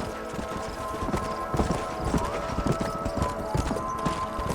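In the Western video game Red Dead Redemption, horses' hooves clip-clop in a steady, quick rhythm, moderately close and fairly quiet, over low ambient rumble.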